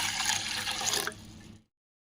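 Water runs steadily into a pot for about a second and a half, close and fairly loud, then cuts off into silence.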